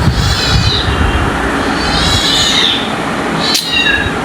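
A cat meows loudly and close by in a home, drawn-out rising and falling cries repeated a few times against background noise.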